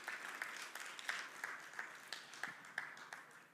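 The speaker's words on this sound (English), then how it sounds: "what if we thank again our speakers and give them a round of applause?" Scattered applause from a conference audience thanking the speakers at a Devcon SEA stage session, moderate and steady with distinct individual claps standing out.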